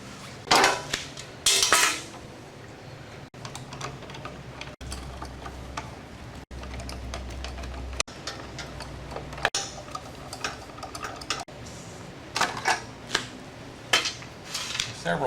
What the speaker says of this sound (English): We're going to pull this carburetor off here and see what's going on.